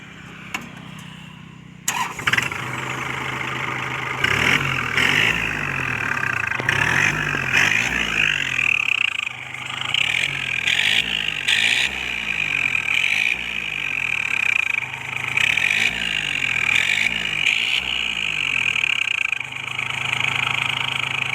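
A tractor engine starts and settles into a loud, lumpy idle through a 2-inch exhaust pipe, its regular throbbing pulses repeating steadily at close range.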